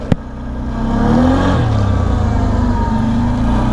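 A 1000cc ATV engine revs hard under heavy acceleration, close and loud, the pitch climbing and then holding a steady, roaring drone after a brief click at the start.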